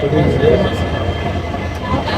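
A railway engine with a single coach idles on a Rajasthan track, giving a steady low rumble and hum that runs unbroken throughout, fairly close, with background voices mixed in.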